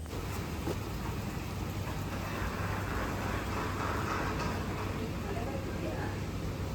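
Steady, dense rainfall hisses continuously at the Taj Bekal resort, fairly loud and close, with no voices standing out.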